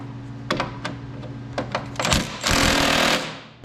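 A small cordless mini impact wrench hammers a bolt tight on a Bilstein steering stabilizer fitted to a 2001–2010 GM/GMC Duramax pickup. Several short rattling bursts come first, then one longer, louder buzz, up close with no talking.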